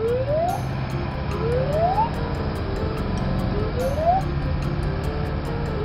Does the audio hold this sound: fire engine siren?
yes